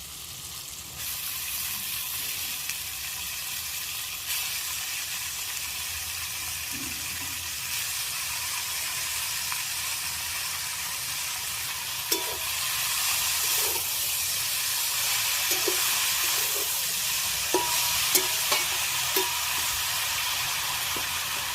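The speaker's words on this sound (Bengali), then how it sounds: "আলুটা হালকা ভাজা হয়ে গেছে, এবার শাকগুলো দিয়ে দেবো" Lightly fried potatoes and leafy greens, seasoned with salt and turmeric, hiss and sizzle steadily in a pan, with scattered clicks and scrapes of stirring that grow busier toward the end.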